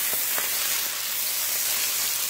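Steak sizzling steadily in a hot pan on a home stove, a constant bright frying hiss with a couple of faint knocks early on, no voices.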